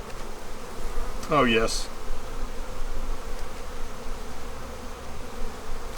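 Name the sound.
honeybees buzzing at a hive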